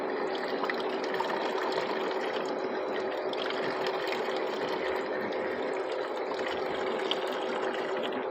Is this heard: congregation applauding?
no